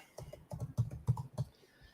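Typing on a computer keyboard, heard as a quick run of about ten soft, close key clicks in an irregular rhythm, alone and faint.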